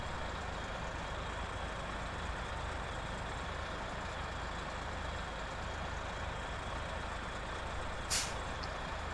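A truck in the SnowRunner video game pulls away, its engine droning steadily over a continuous broadband rumble until a short, sharp air brake hiss bursts out near the end.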